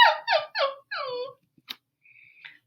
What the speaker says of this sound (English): Richie rattled the box of special treats, but Jake just whimpered.